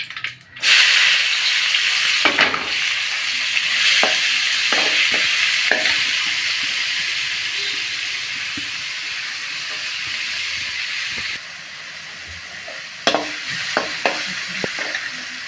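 Steady, loud sizzling of hot oil as spices are tempered for paneer butter masala, with a few sharp crackles and pops from the spices, continuing throughout with no talking.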